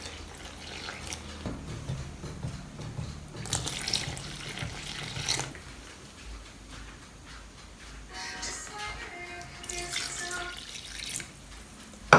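Tap water runs into a bowl while dough is being made in a kitchen, with bursts of splashing stream that stop and start, plus a thin trickle and drips between them, close and alone without speech.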